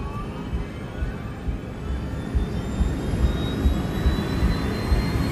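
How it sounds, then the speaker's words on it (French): Jet engines of an Air Florida airliner drone and whine steadily in the background on a cockpit voice recording, a broad rushing roar with a faint rising tone, heard from inside the cockpit. "le son des moteurs qui vient en bruit de fond dans l'enregistrement vocal du cockpit"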